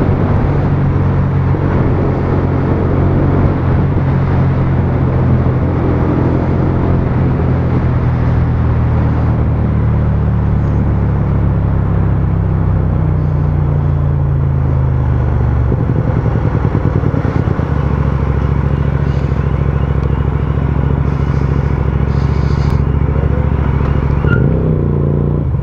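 Motorcycle riding along smooth-paved city streets, a continuous close engine drone with shifting pitch as it accelerates and settles, plus steady wind rush and no talking.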